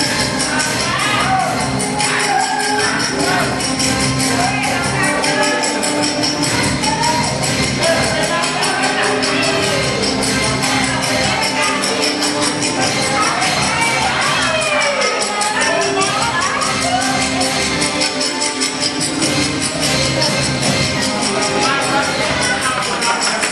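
A large audience at a Balikpapan city government training session cheers and claps in a dense, steady roar of mixed voices and applause that runs loud and unbroken throughout.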